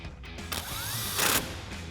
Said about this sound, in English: we'll again use our 10 mil socket and extension on our impact to tighten that back down.